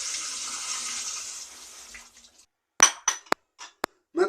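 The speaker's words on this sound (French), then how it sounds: "je passe un petit coup sous l'eau froide." Almonds rinsed under a cold running kitchen tap: steady splashing water for about two seconds fades out, followed by a handful of sharp clinks and knocks.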